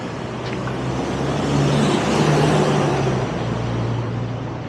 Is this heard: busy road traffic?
yes